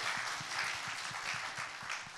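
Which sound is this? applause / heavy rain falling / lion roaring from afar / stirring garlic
applause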